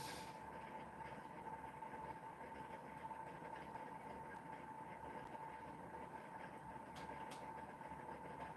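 Small homemade pulse motor running at about 1,000 RPM on 15 volts, a faint steady hum with a thin whine, continuous and even, no voices.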